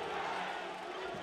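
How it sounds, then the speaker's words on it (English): Arena crowd at a 2018-2019 ASEAN Basketball League game between San Miguel Alab Pilipinas and Hong Kong Eastern, a dense steady roar of many voices chanting for defense, loud and sustained throughout. "Crowd chanting defense."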